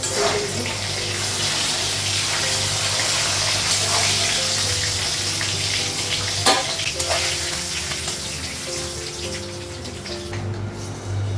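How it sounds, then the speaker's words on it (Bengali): Continuous close sizzling of fish frying in hot oil in a pan, steady and moderately loud throughout with a faint background hum. "আর মাছটা এক সাইডে ভাজা হয়ে গেছে"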